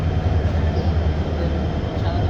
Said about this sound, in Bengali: চট্টগ্রাম থেকে কক্সবাজার আন্তনগর ট্রেনটি ছাড়বে